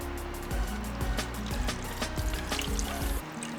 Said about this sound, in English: I might need to add a little bit more water